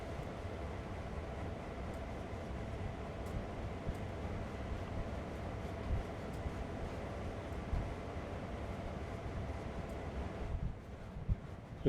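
A freight train rolls along in Train Simulator, working a switching yard on the Sand Patch grade. Its steady rumbling wheel-and-rail noise carries on continuously, then eases near the end, with no voices.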